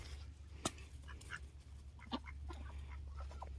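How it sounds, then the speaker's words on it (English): Ducks quack on a garden homestead, several short nasal quacks scattered through the clip, one sharp and close, over a low steady background hum. "Hey, ducks."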